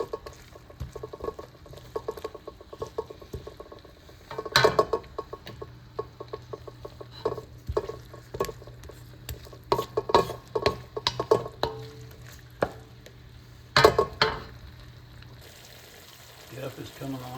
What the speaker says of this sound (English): Get them cooking. Stir it up really good.